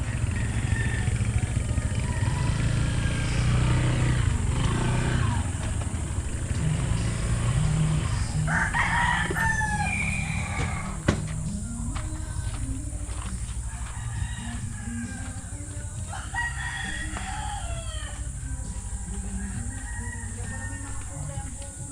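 A rooster crows a few times at middle distance over a steady outdoor hum, with faint traffic and other birds in the background.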